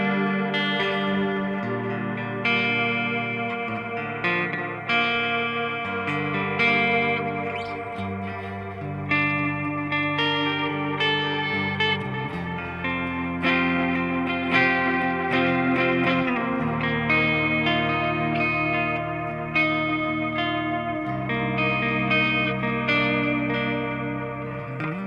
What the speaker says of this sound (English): This is clean channel of the amp.